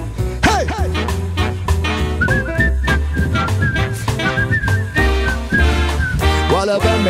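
A person whistles a wavering melody, the bright sustained notes sliding up and down over a steady musical backing with drums, in a lively performance at a night venue.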